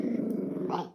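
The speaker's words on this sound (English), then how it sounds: "my dog always goes mad when he sees people go past in the window." A pet dog growls in a low, continuous rumble close by, rising briefly into a sharper snarl near the end of a single second.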